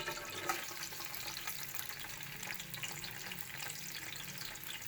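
About 400 grams of chopped onions frying in hot oil, a quiet, continuous sizzle and crackle with no voices over it.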